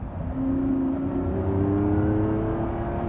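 A 2024 Lamborghini Revuelto at full throttle in seventh gear, its engine drone steadily rising in pitch as it accelerates, loud and continuous from inside the car.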